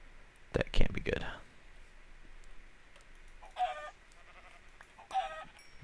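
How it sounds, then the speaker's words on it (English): Chickens cluck in Minecraft in short bursts of clucks, some near and some farther off, with a person talking briefly before them. "Ooh, nice supply of chickens at least"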